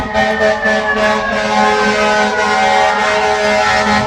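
A loud fire truck siren and horn blare steadily for several seconds on a New York street, a sustained droning tone with no pauses.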